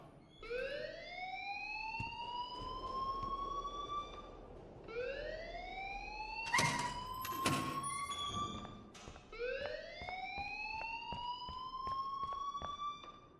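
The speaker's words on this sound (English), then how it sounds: "please turn off that alarm since that's your job" A fire alarm rings inside the Life is Strange video game: a rising, wailing electronic tone sweeps up three times, loud and steady, with sharp bangs midway and faint voices in the background.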